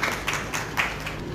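Audience at a Shiv Sena political event in Mehrauli, Delhi, applauding to welcome the Delhi state president as a guest, a faint, steady patter of clapping with a few louder swells.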